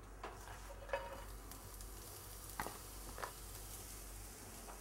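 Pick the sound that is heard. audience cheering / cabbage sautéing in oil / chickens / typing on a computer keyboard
cabbage sautéing in oil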